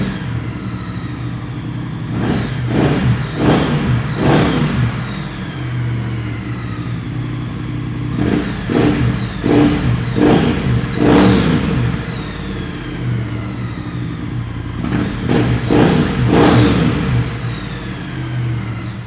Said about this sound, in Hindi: गाइस ये स्टॉक एग्जॉस्ट की आवाज़ है इसकी।